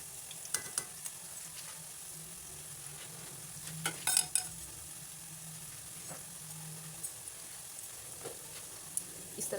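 Spinach and potato pakoras fry in hot oil in a new pan, with a soft, steady sizzle and a few light scrapes and clicks as a spider spoon turns them, fairly quiet throughout.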